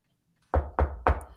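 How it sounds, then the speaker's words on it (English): Three quick, firm knocks on wood, close and sharp in an even rhythm, after a moment of silence. "Knock on wood."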